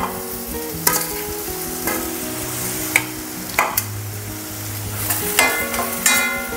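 Ivy gourd pieces fry in oil-slicked masala in a pan, with a steady sizzle broken by repeated scraping strokes and clacks of a spatula stirring them, close up and without talk.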